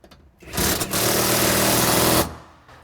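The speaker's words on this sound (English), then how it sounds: "gonna go ahead and bolt this in." A power impact tool bolts a seat into a Square Body C10 truck, one loud, close whirring burst of roughly two seconds with a brief rattle at the start.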